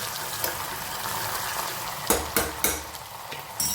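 Onions and tomatoes being stirred in a hot pan, a steady sizzle broken by several sharp scraping clacks of a spoon against metal toward the end, close and without talk.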